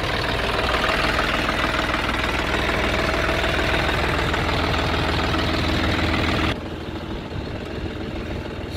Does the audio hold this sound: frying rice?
no